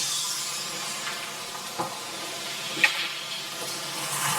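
A soft, steady hiss of meal-prep food sizzling in a pan, with a couple of brief clinks or scrapes of a spatula breaking through.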